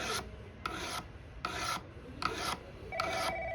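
Floral snips being sharpened on a fine whetstone, five steady rasping strokes in an even rhythm, close and clear with no talk.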